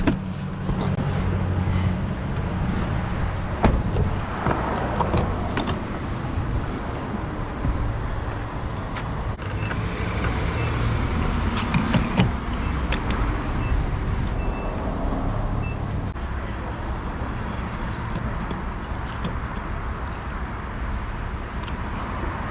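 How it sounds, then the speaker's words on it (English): A 2022 Hyundai Sonata N Line pulls away from a gas station, its steady broadband engine and road rumble loud and continuous from the cabin, with occasional bumps and a faint beeping tone. "Alright, we're taking off from the gas station."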